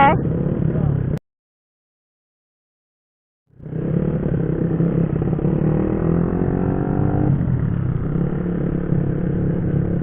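Motorcycle engines at a riders' gathering rumble and idle steadily close by, cut off briefly by a gap of silence before resuming with a rising rev.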